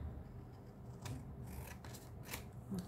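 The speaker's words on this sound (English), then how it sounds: "I'm going to cut some cardstock slightly smaller than the height of this card" Scissors cutting through cardstock, a few short crisp snips spread across the moment, close and fairly quiet against a faint background.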